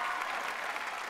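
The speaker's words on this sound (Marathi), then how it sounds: "एकदा जोरदार टाळ्या झाल्या पाहिजे विजू कोटे" A theatre audience at a Marathi comedy show claps together in a short, dense burst of applause, steady and fairly loud with no voices.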